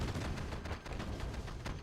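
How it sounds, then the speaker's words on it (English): Cannon fire in a video game tournament match, a dense run of loud booming shots and blasts rolling over one another with no pauses. "Okay, now this cannon is doing work."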